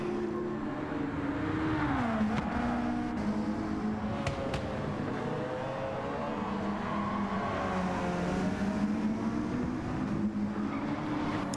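A Volkswagen Beetle in Gran Turismo 7 pulling out of the pits on the Dragon Trail Seaside track, a steady droning engine hum rising and settling in pitch, constant and moderately loud without talk.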